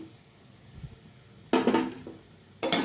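Soya chunks tipped into a pan and stirred for soya palak gravy, giving two short bursts of scraping, clattering metal contact after a quiet moment.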